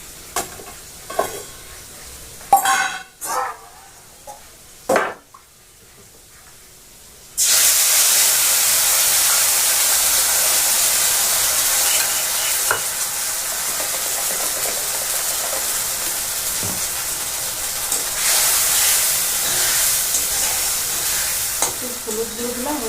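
Spice paste hits a hot pan and settles into a loud, steady sizzle with stirring for the rest of the stretch, after a few earlier clatters and bumps.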